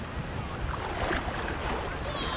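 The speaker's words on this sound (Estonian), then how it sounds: "Aga lained tulevad vahepeal. Päris pirakad." Sea waves wash and churn around a person wading through shallow, knee-deep water on a Spanish beach, a steady close rush of surf and splashing with some wind noise.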